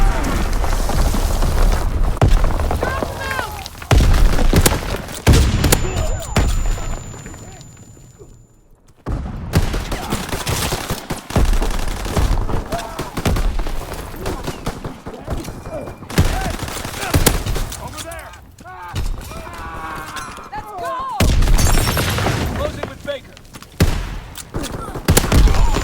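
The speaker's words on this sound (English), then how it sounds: "Enemy mortar fire incoming." Gunfire and incoming mortar blasts in a WW2 shooter match, with dense bursts of shots and explosions coming in waves, loud and near, separated by a brief lull, with battlefield noise throughout.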